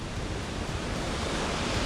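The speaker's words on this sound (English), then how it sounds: "We got a quick waterfall. It's pretty tiny." A small waterfall near Hilo pours with a steady, dense broadband rush, close and continuous for a brief stretch with no voices.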